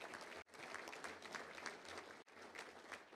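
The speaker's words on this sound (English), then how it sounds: "Now, let's give them a round of applause." Audience at a club luncheon claps in a steady round of applause, dense and even, with two brief dips before it resumes.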